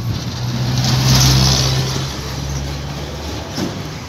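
A 2010 Jeep Patriot engine with a faulty throttle body revving under full accelerator, a steady droning hum that swells then eases back, loud and close throughout.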